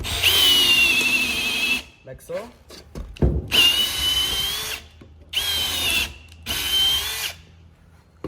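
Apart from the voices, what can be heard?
power drill boring through rubber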